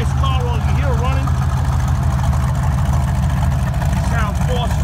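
A 1971 Chevrolet Corvette with a four-speed transmission idles with a deep, loud, steady rumble close by, while a voice talks over it.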